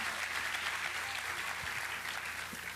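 Church congregation applauding the pastor, a steady wash of dense clapping from a large crowd filling the room without a break.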